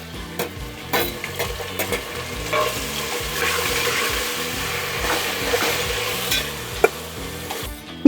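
Tomatoes dropped into hot oil with fennel seeds and shahi jeera sizzle and fry steadily, with stirring scrapes in a pan, close and continuous with no talking.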